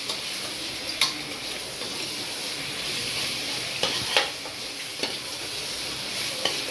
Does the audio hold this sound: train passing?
no